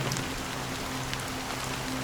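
Steady rain falls in Honkai: Star Rail, a soft continuous patter of drops on a surface with a low hum beneath and no voices.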